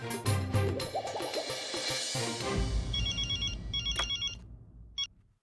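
A telephone rings in short electronic trilling bursts, repeating a few times toward the end after a busy stretch of mixed sound.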